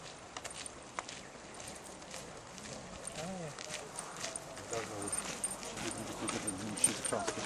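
A horse walks along an Irish country road between Abbeyfeale and the Kerry border, its hooves clip-clopping faintly and irregularly under outdoor noise, with a person talking over it.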